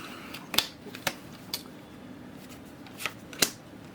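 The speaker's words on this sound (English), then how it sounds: "people are going to get sick of me playing with my cards" Playing cards shuffled by hand, about six crisp riffle bursts spaced irregularly, close and fairly quiet against a soft room hiss.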